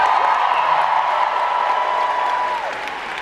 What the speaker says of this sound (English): That amount of cheering is exactly what I felt when I was doing the countdown.